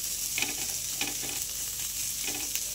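Onion and coconut roast in oil on a griddle over a medium flame, with a steady hiss of frying and a few soft scraping stir strokes at regular intervals.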